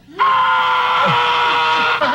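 A comedian's famous scream: one loud, strained, sustained shout held for about two seconds, heard on its own with no other talk.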